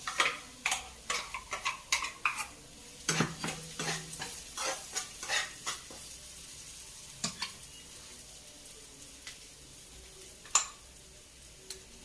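Masala fries in a pan while being stirred, giving a soft sizzle under a series of sharp scraping and tapping strokes that come quickly at first and then thin out.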